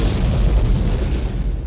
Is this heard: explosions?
yes